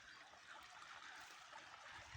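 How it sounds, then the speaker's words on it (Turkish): A gentle stream flows steadily, a soft continuous rushing and trickling of water with no voices, fairly faint. "buradan da dere geçiyor zaten"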